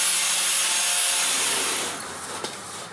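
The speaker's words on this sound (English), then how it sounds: "I just used a grinder and my shirt and rubbed it a bunch of times until a decent amount of rust came off" A grinder works rusty steel, and a shirt rubs the metal clean before welding: a loud, steady, close abrasive whir that fades slightly toward the end, with no talking.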